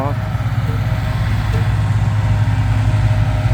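A tractor engine runs with a steady low chugging drone close by, while people talk over it.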